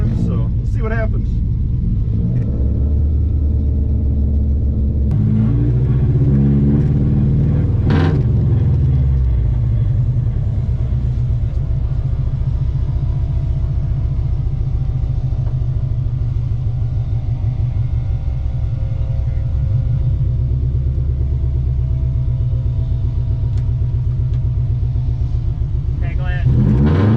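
A rear-wheel-drive-converted Subaru runs at a radar speed event, its low engine rumble droning steadily and loud from close range, with brief swells as it revs. Voices talk over it throughout.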